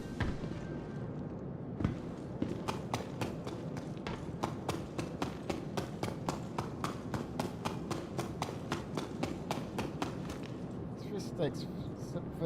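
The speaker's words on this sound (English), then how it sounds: "Footsteps sounds like it's scuffled feet." Scuffling footsteps in Star Citizen, a steady rapid train of sharp scraping steps over a dense rumbling background, with a voice talking beneath.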